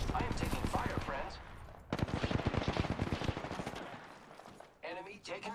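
Rapid automatic gunfire rattles in a shooter video game, dense bursts of quick shots with a voice talking before and after.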